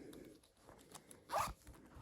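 A zipper on a plush peas-in-a-pod toy is pulled in one short, quiet rasping stroke, close up, after some faint handling rustle.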